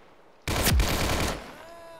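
Gunfire in the Roblox game Unit 1968: Vietnam starts suddenly after a quiet moment. It is a loud, dense burst of about a second that fades into a lingering tail.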